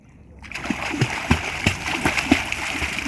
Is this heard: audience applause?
no